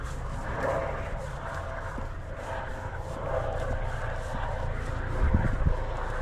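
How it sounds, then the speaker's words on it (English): Steady low engine drone of a helicopter passing at a distance, a continuous rumble that swells slightly toward the end, with no talking. "Oh, we got a helicopter again."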